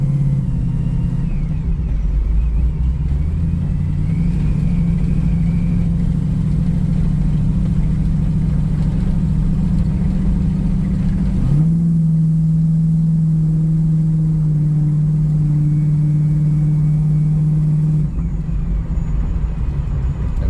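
A 1979 Chevrolet Camaro engine hums steadily while the car is driven, holding a constant drone before a quick rise in revs and a higher, sustained tone, with road rumble underneath and no talk.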